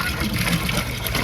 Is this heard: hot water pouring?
yes